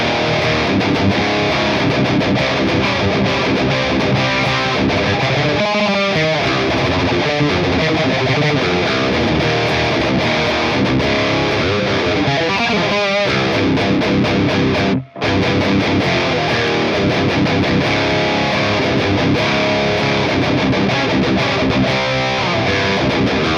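Electric guitar driven through an Airis Effects Massacre Drive overdrive pedal turned to maximum volume, a thick, heavily distorted sustained tone with strummed chords and a brief cut near the middle, loud and unbroken otherwise.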